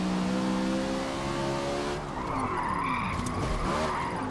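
Tires skid and squeal as a car drifts in Forza Motorsport on a Moza R12 wheel, an engine whine giving way to a loud, close, continuous screech.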